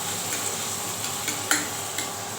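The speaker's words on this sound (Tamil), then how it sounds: "வெங்காயம் தக்காளி மட்டும் லைட்டாக போட்டுக்கிறேன் இது வதங்கட்டும்" Onion and tomato sauté in a pan with a steady sizzle, broken by a few light clicks and taps of a spoon against the pan.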